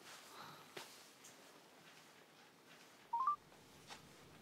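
A telephone gives a brief run of quick dialing beeps over faint background noise and soft rustles. Near the end, three or four short tones sound close together.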